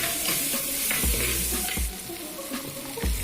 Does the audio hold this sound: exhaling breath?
no